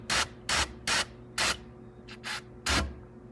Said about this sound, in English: I'm gonna spray some brake clean on it